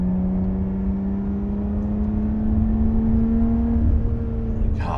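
Lotus Evora 400 engine revving quickly on throttle blips while driving a winding road, a steady close engine drone that climbs smoothly in pitch, with no talking.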